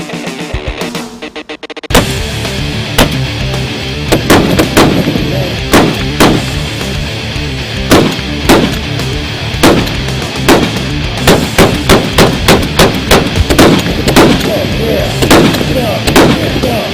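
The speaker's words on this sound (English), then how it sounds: "Never shot a tracer round." Tracer rounds are fired in a long run of loud, close gunshots, some spaced out and some in quick clusters, over a constant rumbling background.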